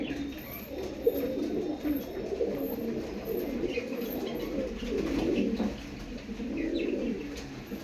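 Pigeons coo in a low, soft, repeated warble that runs steadily throughout, fairly close, with faint chirps above and no talking.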